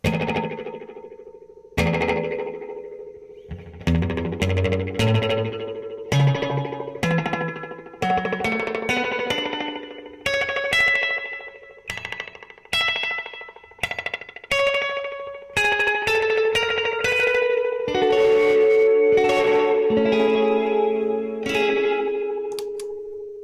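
Electric guitar notes through a Catalinbread Echorec pedal, with a warm, repeating tape-style echo that trails and smears each phrase, loud and continuous with no talking.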